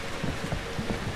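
Steady rain falling in the horror game Outlast II, a dense continuous hiss of drops spread evenly across the whole short stretch with no voices.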